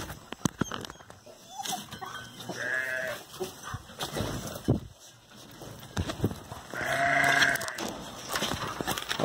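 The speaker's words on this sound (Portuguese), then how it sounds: "vou fechar esses carneiros, terminando o vídeo aqui" Sheep on a farm, heading into their pen, give two loud, drawn-out bleats several seconds apart, with shorter calls, shuffling and clatter around them.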